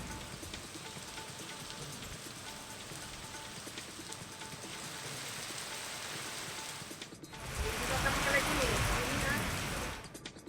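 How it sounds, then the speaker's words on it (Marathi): Steady monsoon rain patters in a constant soft hiss, then swells into a heavier, louder downpour for a few seconds near the end. "सर्वदूर पावसाची रिपरिप सुरूच असल्यानं"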